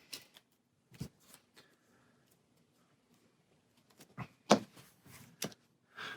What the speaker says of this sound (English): Then shuffle the rest into our deck